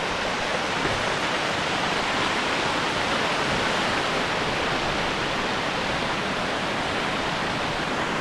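Banti Falls in Nueva Vizcaya pours in a steady, full roar of rushing water, close and constant with no break across the whole stretch.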